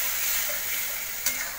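Whisked yogurt and masala stir-fry in a pan for chana masala, giving a loud, steady hissing sizzle with a brief utensil clink near the end.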